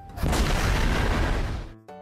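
Explosion in Minecraft during a Sky Wars match: a single loud, broad blast that hits hard, rumbles for about a second and a half, then cuts off abruptly, with no talking over it.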